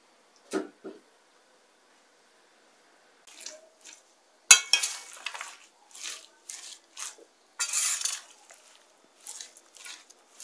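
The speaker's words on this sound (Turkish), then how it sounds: "Bu sefer ıspanağına yoğurdu karıştırıyorum." A spoon stirring strained yogurt into chopped spinach in a bowl for a spinach börek filling, giving soft wet squishes and light scrapes against the dish in short, irregular bursts with quiet gaps between.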